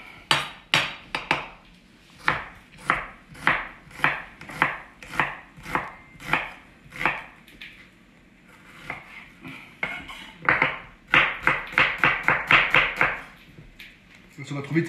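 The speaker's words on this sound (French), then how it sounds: "Mon oignon, je taille pour ma salade." A knife chops an onion for an Italian salad on a board, a run of sharp evenly spaced thuds that pauses, then returns as a faster dense burst, close and clear.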